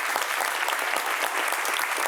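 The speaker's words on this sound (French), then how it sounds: "Vous pouvez vous applaudir." A television studio audience applauds, a dense, loud, steady wash of clapping from many hands that fills the whole moment without a break.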